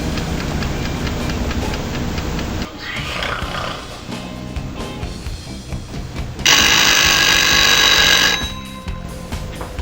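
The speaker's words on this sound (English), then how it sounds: "now that my timer's gone off" A kitchen timer on a cooking set rings in a loud, steady electronic burst for about two seconds, cutting through quieter clattering and background noise before stopping abruptly.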